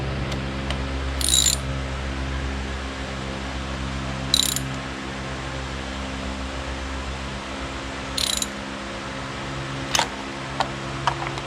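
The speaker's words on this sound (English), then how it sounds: "I'm not over tightening them." Bolts on a Yamaha F200 outboard being tightened with a hand ratchet during a 100-hour service: four short bursts of clicking a few seconds apart, then a few lighter clicks, over a quiet steady hum.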